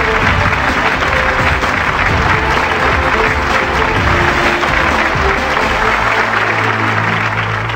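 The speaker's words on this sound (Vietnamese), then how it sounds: "Hãy dành những tràng pháo tay nồng nhiệt." Loud, sustained applause from a large television studio audience, dense clapping filling the room without a break, with a faint low hum beneath.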